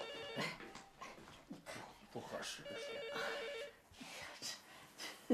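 A telephone bell rings in a home in quick repeated trills, heard under close conversation between people.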